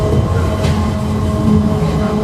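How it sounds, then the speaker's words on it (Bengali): Riyadh driverless metro train running, a steady close rumble with rail hum and faint clatter heard from inside the carriage, with no talking. "মেট্রো কিন্তু চলতেছে।"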